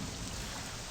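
Steady rain falls in the Morrowind game world, a dense continuous hiss of drops, fairly faint with a low rumble beneath.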